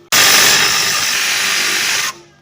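A Craftsman cordless power tool removes suspension bolts from a 2004 Toyota Sienna front knuckle in a rusty state, giving one loud, steady, hissing whir that runs for about two seconds and then stops abruptly.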